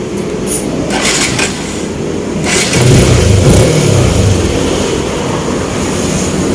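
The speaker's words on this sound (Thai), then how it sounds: "เครื่องยนต์ติดแล้วนะครับ ฟังเสียงดู" A Suzuki SP135 motorcycle engine with a stock exhaust idles and revs nearby with a steady, rough rumble, swelling louder midway before settling back to a constant running drone.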